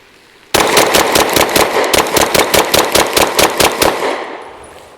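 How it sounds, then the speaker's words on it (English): Rapid semi-automatic speed dump from a Derya Arms DY9 Island Barrel shotgun: about eighteen loud, sharp shots in quick, even succession, close and dominant, ringing off over the last second. "I'm gonna do kind of a speed dump. We're gonna see what kind of recoil control we get."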